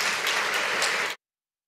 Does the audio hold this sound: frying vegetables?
no